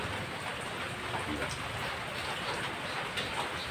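Steady rain pours down as a dense, constant hiss, close and fairly even, with no distinct drops standing out.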